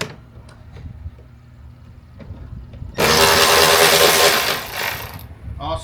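Air ratchet working on a Volvo S40, a loud sustained pneumatic buzz lasting about two and a half seconds after quieter shop noise with scattered knocks.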